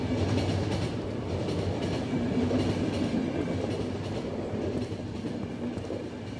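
A moving train in the video game The Final Station: steady, continuous rolling rumble with a faint clickety-clack rhythm and a sustained tonal hum, alone and unbroken.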